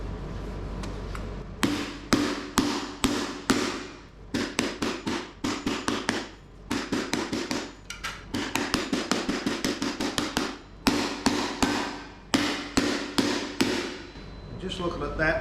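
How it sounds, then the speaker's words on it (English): A hammer repeatedly strikes sheet metal to dent and stretch it for a curved top edge, in rapid bursts of sharp metallic blows separated by short pauses, loud and close. "put a whole lot of dents in it and actually stretch the metal"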